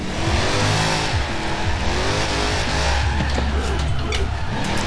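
In Forza Horizon 4, a rear-wheel-drive 707-horsepower car with a heavy front engine drifts on a wet road, its engine roaring continuously under tire squeal, with faint talking mixed in.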